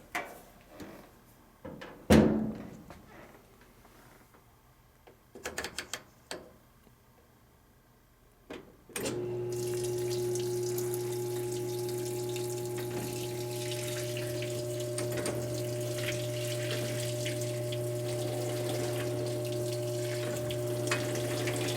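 A GE Hydrowave top-load washer with a new tub seal and dampening straps, heard after a few clunks and knocks, begins a steady humming drone with water rushing in that continues to the end.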